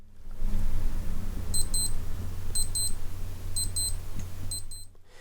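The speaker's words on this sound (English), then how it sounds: "you can easily hear the beeper to make sure it's working" A Casio AE-1000W digital watch alarm gives thin, high electronic beeps in quick double pairs, four bursts at an even pace, over a low background rumble.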